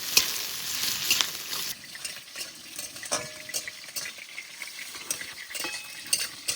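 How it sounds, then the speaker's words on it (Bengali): Chopped onion and split green chilies fry in hot oil, sizzling with stirring and a clink of a spatula against the pan, close and alone. "কাঁচা লঙ্কা পেঁয়াজ একটু ভেজে নেব।"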